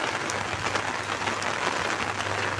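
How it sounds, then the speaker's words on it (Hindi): Heavy rain pours steadily in a park beside a residential colony during a day of downpour, a dense, constant hiss of drops on surfaces with no voices, close and even throughout. "वही देखो बारिश फिर से तेज़ होगी, बहुत तेज़ होगी बारिश"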